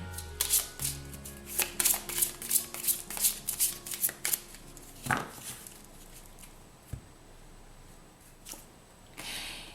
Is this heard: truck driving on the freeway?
no